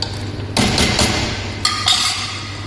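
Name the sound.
pot being covered with a lid while cooking green bean curry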